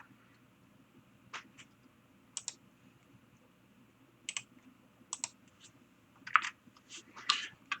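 Mouse and keyboard clicks land at a computer while parts are placed in PCB design software, quiet separate taps spaced irregularly over soft room hum, with a small burst of quicker clicks near the end.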